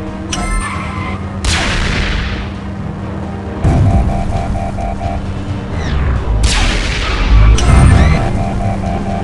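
Cartoon robots come under fire in a chaotic animated action scene, with repeated booming blasts and crashing impacts swelling in waves over a constant rumble, some sharp hits at the start and two big bursts later.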